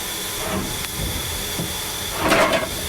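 Continuous steam hiss from a locomotive with a louder hissing burst near the end, clanks and rumbles faintly beneath, no speech.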